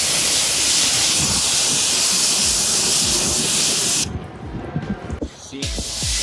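303 Spray & Rinse ceramic spray hissing onto a car's wet paintwork from close range, a loud continuous spray for about four seconds, then short intermittent bursts as it is stopped and restarted.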